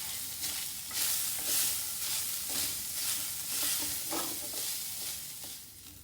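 Grated coconut roasts in ghee in a kadai over low heat, with a continuous gentle sizzle and rhythmic stirring scrapes recurring about every second, no voices.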